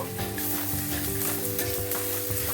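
Red chili powder and turmeric fry with tomato in a pan, a dense close sizzle with quick rhythmic stirring scrapes and clinks running throughout while music plays underneath.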